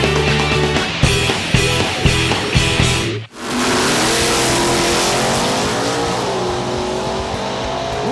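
Drag racing cars at a Fun Ford Weekend, among them T-Bolt clones and a radical Ford Focus, roar down the track, with one engine revving in sharp stabs, then a brief cut before a loud, sustained full-throttle acceleration that climbs steadily.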